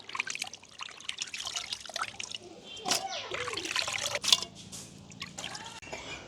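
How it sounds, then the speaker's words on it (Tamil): Small fish, including a few karal (ponyfish), are rinsed by hand in a pot of water in a village kitchen, with close trickling, dripping and light splashing and faint voices in the background. "ரெண்டு மூணு தண்ணியில் வடிவாக கழுவி எடுப்போம்"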